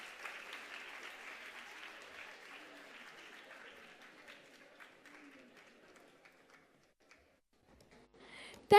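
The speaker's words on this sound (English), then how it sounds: "Dear audience, give them another round of applause, please." Audience applause for a student performance at a convention, a dense patter of many hands clapping that slowly fades out, followed by a sharp sound at the very end.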